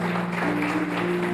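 Loud, steady applause from a church congregation at a Friday teaching service, dense clapping filling the whole moment with a low sustained tone or hum underneath.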